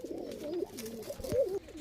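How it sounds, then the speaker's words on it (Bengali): A pair of Karlum pigeons in a loft coo in low, warbling rolls, several overlapping calls close by with no talk. "এক পেয়ার কার্লুম পায়রা দেখাচ্ছি শখের জন্য"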